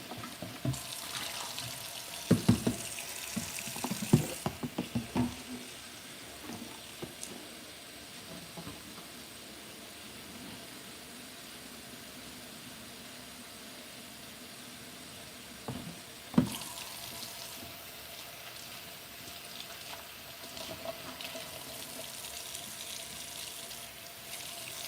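Tap water runs into a kitchen sink while a tea jug is washed, a steady hiss broken by clatters and splashes near the start and again midway, with no talking.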